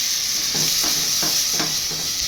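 Ground masala paste sizzles in hot oil tempered with mustard seeds and curry leaves for a greens and field-bean sambar: a loud, steady frying hiss with a few soft rhythmic stirring scrapes, no talking.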